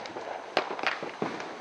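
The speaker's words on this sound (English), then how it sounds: "No, the dog Lexi Pooh and Sammy don't like the fireworks." Outdoor fireworks bursting during a neighborhood display, a few sharp cracks and pops scattered over a second and a half, faint to moderate in loudness.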